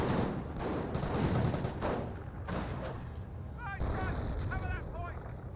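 Artillery barrage in the game Company of Heroes 1, with repeated booming shell impacts and rumbling blasts under a commentator's voice.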